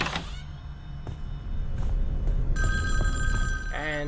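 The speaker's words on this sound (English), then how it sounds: "And now there's a phone ringing." A telephone rings in a cabin in the Friday the 13th video game, insistent bursts of bright ringing tones over a low mechanical rumble and creaks, loudest in the second half.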